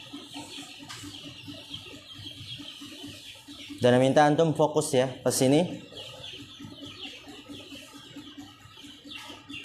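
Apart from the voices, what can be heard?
chickens clucking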